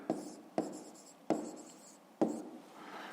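Pen writing by hand during a fifth-grade maths exercise, four separate short scratching strokes spaced unevenly, close and moderately quiet, with no voice.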